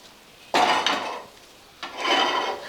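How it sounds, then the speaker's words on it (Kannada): A cooking pot set down on a hard surface twice, each a short clattering scrape that rings briefly, close by in a quiet room. "ಮೊದಲೇದಾಗಿ ನಾನು ಪಾತ್ರೆ ಇಟ್ಕೋತೀನಿ ರೀ"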